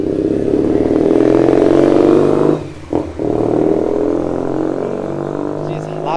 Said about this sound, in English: Jeez, loud bike.